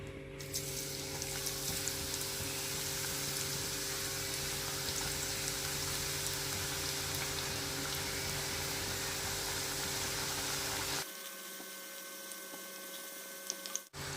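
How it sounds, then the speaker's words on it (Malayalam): A steady, dense sizzle of sweet potato slices frying in oil for chips runs for most of the time, then drops to a quieter hiss near the end. "ഇനി എണ്ണയിലിട്ടിട്ട് ഫ്രൈ ചെയ്തെടുക്കുക"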